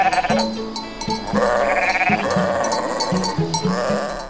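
Several sheep bleat loudly and close by on a sheep farm in the Odesa region, with overlapping wavering calls repeating throughout, and no talk.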